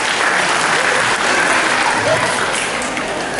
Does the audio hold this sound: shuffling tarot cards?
no